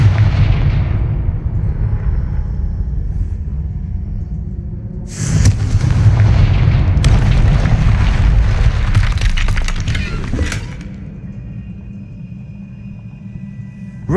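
A Confringo explosive spell erupts in the Hogwarts Legacy video game: a loud, sustained blast of rumbling booms with crackling debris, swelling midway and then settling into a lower rumble.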